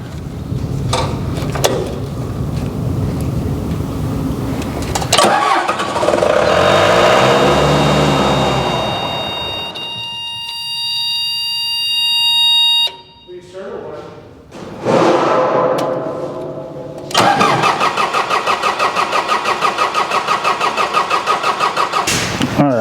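A car engine with a mechanical fuel pump cranks and starts after a fuel filter change, catching and revving unevenly, stumbling nearly to a stall, then recovering to a loud steady idle, with people talking in between.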